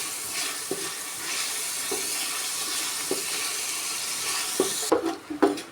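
Grated coconut frying in a pan, a steady soft sizzle with occasional light stirring clicks and scrapes, a few sharper knocks near the end.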